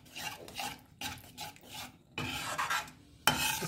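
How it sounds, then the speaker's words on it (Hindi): A spoon scrapes and stirs yogurt gravy in a pan for stuffed dum aloo, giving close, rasping strokes in uneven bursts with short pauses between. "इसलिए ये बहुत इम्पोर्टेंट स्टेप है कि आपको ये दही को बराबर चलाते रहना है।"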